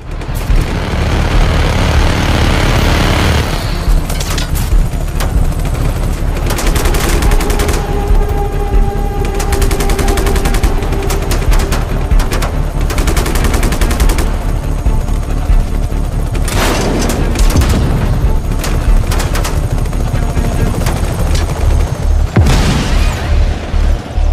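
Video game Just Cause 3, dense gunfire in rapid bursts mixed with booming explosions, loud and nearly continuous throughout with no talking.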